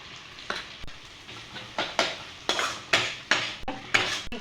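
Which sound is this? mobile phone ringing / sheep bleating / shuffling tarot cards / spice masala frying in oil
spice masala frying in oil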